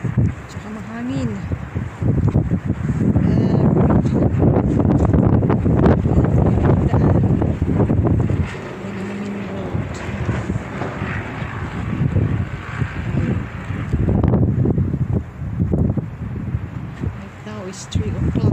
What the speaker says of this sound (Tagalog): Tsaka mahangin.